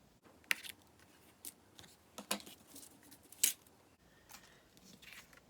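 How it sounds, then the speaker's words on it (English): Scissors snip a die-cut paper flower piece in a few sharp, separate cuts, quiet and close with pauses between. "you can just, to fit in, just give it a little snip and that's fine."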